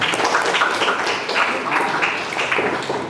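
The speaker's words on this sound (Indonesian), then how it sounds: "beri tepuk tangan dulu untuk kita" A class of students claps together in a classroom, a brisk, moderately loud patter of hands that runs on for a few seconds, with some voices mixed in.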